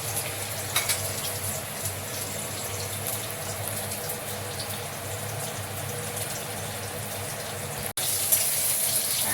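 Young jackfruit pieces frying in oil make a constant, dense, close hiss that drops out for an instant near the end, then resumes a little louder.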